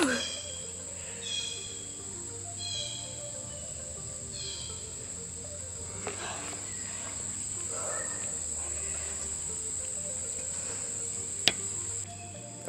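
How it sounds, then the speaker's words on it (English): Insects buzzing and crickets chirring outdoors along a hiking trail, a steady faint drone with a few soft chirps and brief distant sounds mixed in, no talking. "besides the bugs flying around me"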